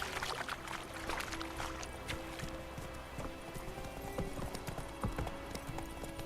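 Roach, a horse in The Witcher 3, clip-clops steadily along a road in a game scene, hooves beating in an even rhythm over a busy ambient background with faint tonal music.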